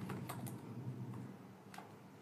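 Keys tapped on a Mac computer keyboard while entering a terminal command, a few sparse soft clicks over steady background hum.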